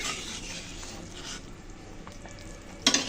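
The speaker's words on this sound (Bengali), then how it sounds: "ভালো করে নেড়ে ছেড়ে মিশিয়ে ঢাকা দিয়ে রান্না করব" Eel and potato curry stirred and mixed in a pan, a steady broadband sizzle with scraping of the spoon, ending in two sharp clicks near the end.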